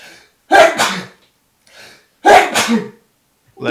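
Two loud, close sneezes about two seconds apart, each a sharp burst with a breathy tail, with softer breaths between them and a third sound beginning at the very end.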